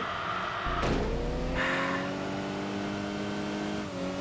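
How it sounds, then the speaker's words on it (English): An Audi race car engine in the video game Enthusia Professional Racing revs hard, then upshifts with a quick drop in pitch before climbing again in a smooth, steady drone. "It's very, very smooth when upshifting as well."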